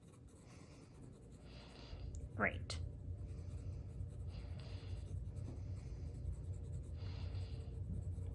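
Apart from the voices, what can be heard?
pencil shading a value scale box with light pressure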